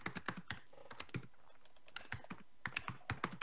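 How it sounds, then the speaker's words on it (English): Fast, furious typing on a computer keyboard, heard as bursts of sharp, close clicks with brief pauses between flurries, loud and alone with no talk. "I hear furious typing."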